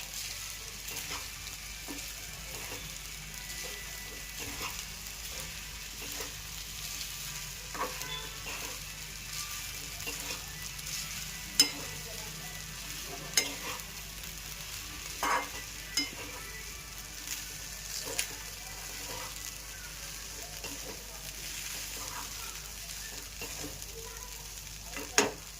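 A vegetable pulao mixture is stirred in a pan over a soft, continuous sizzle, with occasional light scrapes and clicks of the spoon throughout; the sound stays fairly quiet and no one talks.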